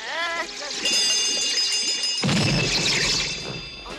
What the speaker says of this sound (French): J'entends vraiment des cloches, moi.